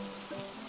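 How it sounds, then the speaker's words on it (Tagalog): Steady rain falls as a soft, even hiss with faint patter, used as a sound effect in a children's fable about an ant and a grasshopper as the rainy season arrives; no voices. "Lumapit ang tag-ulan."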